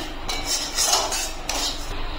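A metal pan of roasted semolina is lifted off the stove, producing a few sharp metallic clanks and scrapes of cookware close by in a kitchen.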